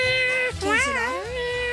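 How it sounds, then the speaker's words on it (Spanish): A cat meows loudly and close by in one drawn-out, wavering call that rises and falls, with a faint voice murmuring underneath. "Es un gato."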